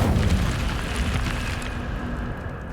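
An Incendio fire spell is cast in Hogwarts Legacy: a steady whooshing, rumbling burst of flame that holds at a fairly even level for a few seconds, then slowly tapers.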